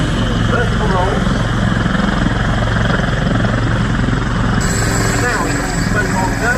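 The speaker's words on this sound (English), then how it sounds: "the two aircraft pull up and away from each other" Display aircraft fly at the Duxford air show, a loud steady engine drone that holds throughout with little change, heard under a commentator's talk.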